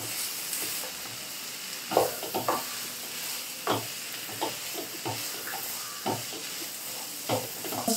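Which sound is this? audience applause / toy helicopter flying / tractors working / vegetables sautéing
vegetables sautéing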